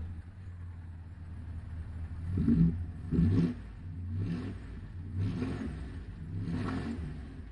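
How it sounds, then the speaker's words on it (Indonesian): A 1986 Suzuki Carry pickup's engine idles, then is revved in several short surges that rise and fall, close by with a rough mechanical tone. "Sekarang saya geber-geber bos nih gasnya ya, saya geber-geber."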